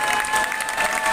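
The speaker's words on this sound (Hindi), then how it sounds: "सबके सब तालियां बजाओ पाकिस्तान के लिए।" A brief burst of steady crowd clapping at an Independence Day gathering for Pakistan, even and fairly close, with no speech over it.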